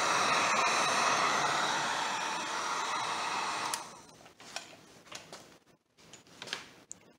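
Heat gun blowing hot air over faded plastic trim to restore its color, a loud steady roaring whoosh for nearly four seconds that then cuts off, leaving faint scattered clicks and handling sounds.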